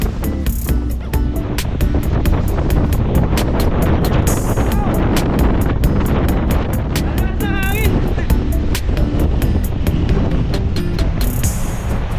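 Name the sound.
strong wind blowing after Typhoon Karding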